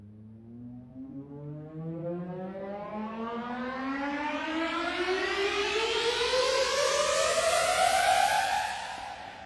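A riser sample in BandLab sweeps steadily upward in pitch for several seconds. It is a loud, smooth, siren-like tone that swells in intensity, then cuts off abruptly.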